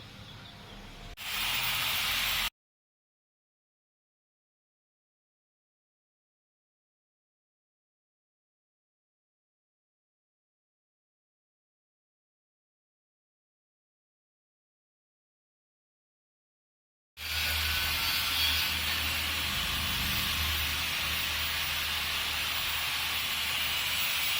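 A brief burst of hissing cuts off into a long silence, then a steady, close sizzle of mustard seeds, fenugreek and cumin frying in hot oil resumes.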